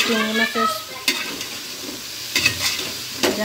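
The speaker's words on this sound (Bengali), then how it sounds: "এই পর্যায়ে ভালো করে লতিটাকে কষিয়ে নিচ্ছি।" Taro stolons and prawns sauté in an oiled pan with a steady close sizzle, punctuated by several sharp scrapes and clinks of a spatula stirring against the metal, and a faint voice briefly audible near the start.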